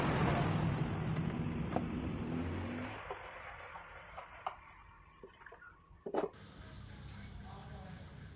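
A Yamaha Mio motorbike engine with a carburetor fault idles roughly, then drops off and sputters with irregular pops and ticks, with brief talk in the background.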